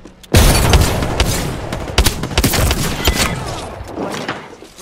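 A loud frag grenade blast in a shooter game, opening with a heavy boom and followed by a rumbling stretch of crackling gunfire and impacts that slowly fades, with no talking.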